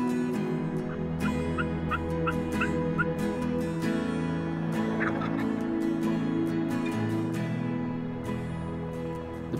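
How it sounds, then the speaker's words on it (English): Wild turkeys gobble back in spring woods during a Michigan turkey hunt, several short gobbles and bird calls coming from a distance over steady outdoor ambience, with no talking. "So far, the birds were doing just what we had hoped, but would they come all the way in for Taylor's 20 gauge"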